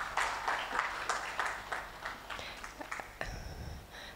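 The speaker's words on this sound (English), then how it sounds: "Another round of applause for Kennedy." An audience at a conference applauds a speaker, a modest round of scattered claps, moderately close, tapering off after a few seconds as a few isolated claps and faint room noise remain.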